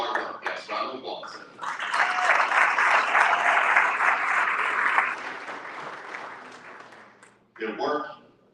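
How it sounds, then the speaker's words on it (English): An audience at a sports awards ceremony claps in a dense burst lasting a few seconds, then fades out, with someone speaking before and after it. "Yes, round of applause."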